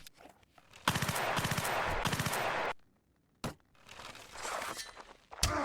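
Modded Mount and Blade gunfire crackles in rapid bursts, two clusters of quick repeated shots separated by a brief silence, with sharp single reports at the edges, fairly close and loud.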